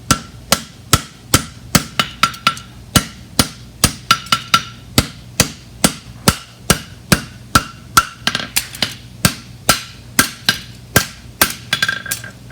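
Steady hammer blows ring out on a steel bar horseshoe being shaped, sharp metallic strikes in an even rhythm, about two per second, loud and close with brief ringing between hits.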